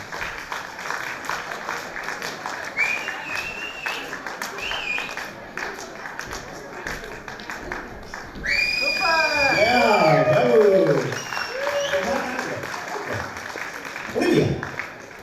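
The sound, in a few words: applause for the dancers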